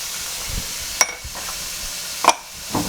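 Mushrooms cooking in a pan with pepper and kosher salt, a soft steady sizzle punctuated by a few brief clicks and stirring knocks.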